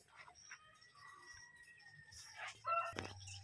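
A rooster crows in the background among faint bird chirps and outdoor ambience, followed by a sudden louder thump near the end.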